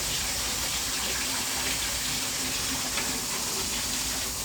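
A steady hiss of water sprays and rinses an air conditioner unit, running continuously at an even level throughout with no talking.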